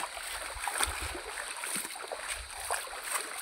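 Steady broadband rushing of a flowing mountain stream with small splashes and gurgles throughout, fairly close and continuous.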